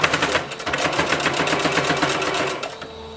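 A domestic sewing machine stitches a neckband onto a bodysuit in a fast, even mechanical chatter, close and loud, running steadily before stopping near the end.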